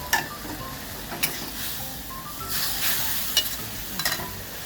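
Steady hot sizzling of shrimp and squid frying in a hot iron wok, with intermittent scraping and stirring clicks from a utensil, close and continuous.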